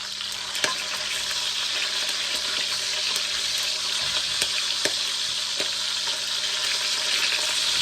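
Pork sizzles steadily in a hot pan for a Filipino fried pork sinigang, a constant bright crackle with occasional louder pops and faint utensil scrapes, close and without talk.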